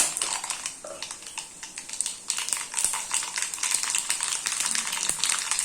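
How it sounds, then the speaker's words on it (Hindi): Mustard seeds crackle and pop in hot oil in a pan, a dense run of sharp sizzling snaps, close and steady throughout, with no talk. "तेल जैसे ही गरम होता है तो सबसे पहले हम डाल देंगे राई दाना"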